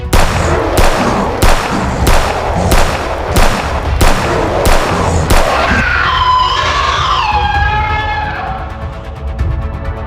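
Video game gunfire: a steady string of loud, evenly spaced shots, then a whooshing, warbling effect that slowly fades out.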